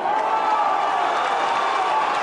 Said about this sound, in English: Come on, Scott, let's go, is the shout from the crowd